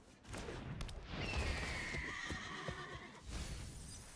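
Ostrich Horse card sound effect in the MTG Arena video game, a horse whinny with rattling hoof-like clatter, sustained and fairly faint, fading after a few seconds.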